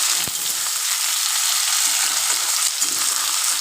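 Potatoes fry in a hot spice tempering for a Malabar spinach chorchori, giving a steady, close, broadband sizzle and hiss throughout with no voices.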